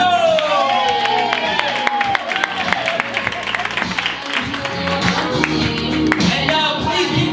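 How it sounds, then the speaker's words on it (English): Applause and cheering from a stand-up comedy show crowd, dense clapping with whoops and shouts rising and falling, a host's voice cutting through near the start and end. "please keep that round of applause going for your next stand-up comedian, Lily Mason"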